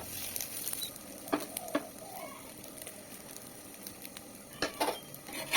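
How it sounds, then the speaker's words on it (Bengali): Paratha fries in a pan on low to medium heat: a soft, continuous sizzle with scattered light crackles and patter, plus a few sharper pops toward the end. "তো আঁচটা এই অবস্থায় লো টু মিডিয়াম আঁচে রেখে পরোটাগুলো ভাজতে থাকবো"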